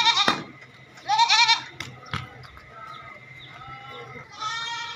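Young three-month-old Beetal goats, a black male and a female, bleating several times up close in short quavering calls with quiet gaps between them, alongside other farm background noise.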